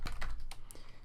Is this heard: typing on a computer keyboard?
yes